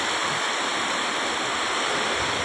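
Strong rushing water current of a flooded river running over a road, a loud, steady, close roar of churning water with no pauses and no talk.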